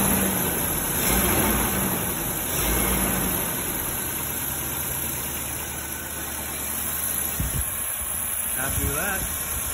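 A 1986 Toyota 4Runner with a newly fitted engine idling just after its first start in a garage, a steady close low rumble with a faint whine, with someone talking briefly over it near the end.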